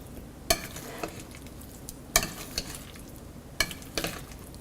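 Cooked cauliflower stirred into masala in a pan, a steady low sizzle broken by a few sharp scrapes and clacks of a spoon against the pan, close, with no talk.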